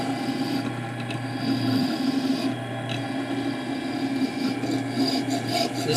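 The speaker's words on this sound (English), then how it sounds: "This vertical lathe is really something else." A vertical lathe cuts threads off a metal workpiece, giving a steady scraping, rasping grind with a constant low machine hum, close and continuous throughout.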